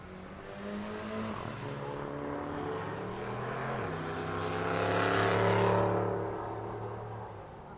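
A Mini and an A-body Mopar launch at a drag race, engines droning with rising, shifting pitch, swelling to a loud peak as they pass near and then easing off, with no talking.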